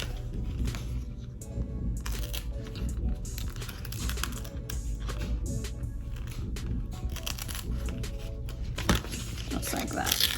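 Glitter iron-on vinyl is peeled away from its backing starting at a corner, giving a continuous close crackling and ticking texture throughout, with talk over it.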